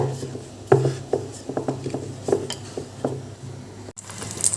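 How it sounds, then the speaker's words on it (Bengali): A rolling pin taps and rolls against a board in soft, uneven knocks and rubs as paratha dough is rolled out, close and steady, with faint background hiss. "প্রথমে রুটির মতন বেলে নেব"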